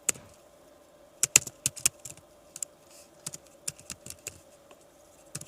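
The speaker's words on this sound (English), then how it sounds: "And then you type in the name of your medication." Keys clatter on a computer keyboard in quick irregular bursts, crisp and close, with brief pauses between strokes and no voices.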